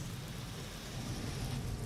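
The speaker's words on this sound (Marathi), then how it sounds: "मुंबईसह उपनगरात दमदार पावसाची हजेरी पाहायला मिळते।" Heavy rain falls over Mumbai and its suburbs as a continuous, even downpour hiss with a low rumble beneath. It is fairly soft and steady throughout, with no speech.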